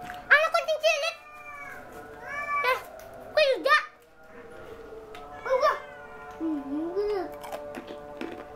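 A cat at an Indonesian street food stall meows repeatedly in rising and falling calls, close and clear, mixed with people chatting nearby.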